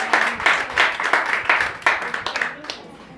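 A church congregation claps together during a worship service, a burst of rhythmic hand claps, fairly close and moderately loud, tapering off toward the end.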